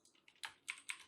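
Keystrokes on a computer keyboard while writing C# code, a few quiet clicks in an uneven burst, close and without any voice.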